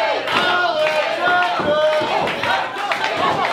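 Wrestling crowd at a tag-team match between Monster Mafia and The Painkillers, a loud dense roar of shouting and cheering urging a wrestler on, sustained throughout with chanting voices.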